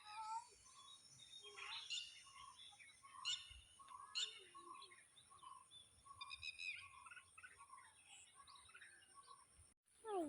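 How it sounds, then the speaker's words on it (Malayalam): Birds in a forest near a Kerala village chirp and call in short bright bursts, several overlapping twitters and tweets scattered throughout over quiet background hiss. "എനിക്കിഷ്ടം കേട്ടോ പക്ഷിയുടെ സൗണ്ട്"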